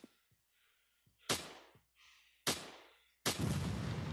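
Rifle gunshots in a video game, three sharp loud blasts at roughly one-second intervals, each with a decaying tail, between quiet breathy sounds.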